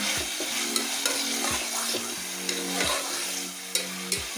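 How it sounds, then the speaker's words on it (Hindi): Minced meat sizzling in hot oil in a pan with steady crackle, punctuated by scraping stirs of a spoon against the pan every half second or so. "कीमे को हम अच्छे से ऑयल में फ्राई कर लेंगे।"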